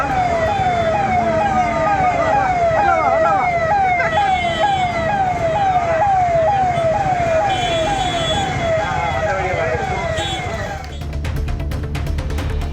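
An ambulance siren wails loudly and continuously with a rapid rising-and-falling yelp, close by while the ambulance is stuck in a dense crowd. Traffic and crowd noise rumble underneath, and the tone shifts briefly near the end.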